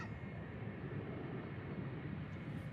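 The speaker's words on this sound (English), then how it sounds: "KLM Embraer 190 going to Aalborg" A KLM Embraer 190 departs Amsterdam Schiphol Airport, its engine roar a steady, broadband rumble heard from a distance without a break.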